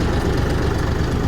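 A Taro Texmo submersible motor runs at a farm borewell fitted with 2.5-inch plastic pipes, giving a loud, steady, dense engine-like rumble without a break and no talking.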